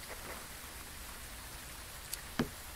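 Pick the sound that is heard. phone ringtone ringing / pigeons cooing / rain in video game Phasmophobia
rain in video game Phasmophobia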